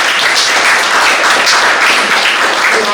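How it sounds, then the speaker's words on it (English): Audience applause for the panelists at the close of a panel discussion on teenage mental health, a dense, steady wash of clapping that stays loud and even for the full three seconds, with no voices over it. "give a round of applause to our wonderful panelists today"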